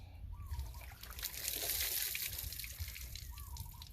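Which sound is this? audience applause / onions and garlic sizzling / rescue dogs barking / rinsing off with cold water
rinsing off with cold water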